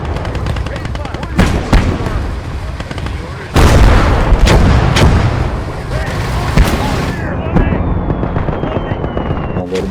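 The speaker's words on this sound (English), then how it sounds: "we gotta deal with that artillery" Artillery fire in the World War II strategy game Call to Arms: Gates of Hell, loud booming blasts and crackling gunfire in repeated impacts, with one heavy explosion near the middle and rumbling debris after.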